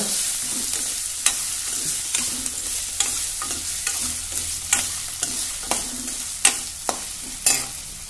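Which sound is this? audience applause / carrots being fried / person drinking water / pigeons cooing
carrots being fried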